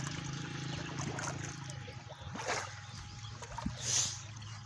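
Water from a solar-powered motor pump flows out through a pipe into a channel watering a paddy field in rural Punjab, a steady, soft rushing trickle heard at a distance with outdoor background noise.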